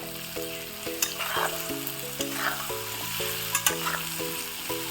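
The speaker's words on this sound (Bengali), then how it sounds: "তারপরে কিন্তু আমি সিদ্ধ করা কাবলি ছোলাগুলো দিয়ে দেবো। তো দেখুন দিয়ে দিয়েছি, আবারও ভালো করে কষিয়ে নিব।" Boiled kabuli chickpeas sautéed with spices in a pan, giving a steady frying sizzle with occasional spatula scrapes under continuous background music.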